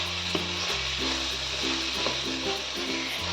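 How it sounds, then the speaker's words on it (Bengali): Chopped spinach being stirred with vegetables in a pan for vegetable dal, a steady close sizzle with soft scraping stirs throughout, no talking. "ভালো করে আমি শাকটা দিয়ে নেড়ে দেবো"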